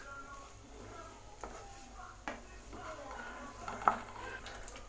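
A spoon scrapes and clinks faintly against a tawa as salt is mixed into pulao, with soft, irregular stirring sounds over a quiet background.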